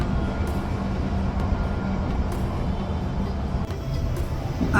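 Steady broadband rumble and rattle of a train ride near Tokyo, heard from inside the carriage, with continuous low roar, faint clicks and hiss throughout, no voices.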